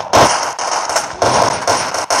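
Rapid bursts of video game gunfire crackle loudly in several close, sharp volleys separated by brief pauses.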